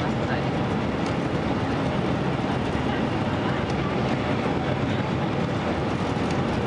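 A Hawaiian Airlines airliner on final approach to runway 17 left, flying low over a Costco, gives a steady loud broadband roar that fills every moment and drowns out any voices.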